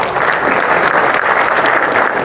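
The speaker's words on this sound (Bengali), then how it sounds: "আমার অত্যন্ত প্রিয় তপনদার জন্য জোর করে হাততালি" Dense, loud applause from an audience at a club prize distribution ceremony in Bengal, an even wash of clapping from start to finish.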